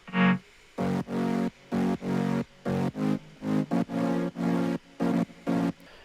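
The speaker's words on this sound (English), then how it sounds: "together they're very basically just super distorted saws" Heavily distorted saw-wave synth chords stab in a choppy rhythm, loud and buzzy, with short gaps between hits and no voices.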